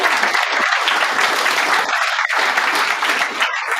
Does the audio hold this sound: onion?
no